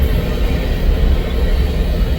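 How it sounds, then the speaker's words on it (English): A Union Pacific train rolls over a diamond crossing with the BNSF line in Falls City, a loud, steady rumble and roar of wheels with no distinct clanks standing out. "This is UP swinging west and about to go over the diamond with BNSF."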